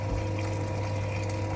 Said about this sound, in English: Add more water to my pasta.